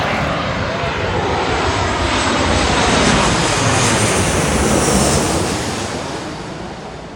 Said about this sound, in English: There in the distance is Sun Express from Izmir in Turkey. And that's a 737.